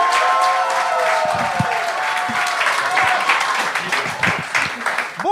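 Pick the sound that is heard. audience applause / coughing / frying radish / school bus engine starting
audience applause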